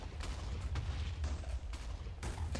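Explosions in the block-building game Minecraft, several separate booming blasts spaced about half a second apart over a steady low rumble.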